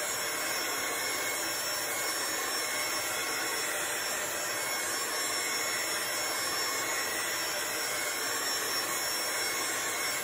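A dryer blowing steadily over chalk paste on a craft project, a loud, continuous, even whoosh close by that fills the whole stretch without pause.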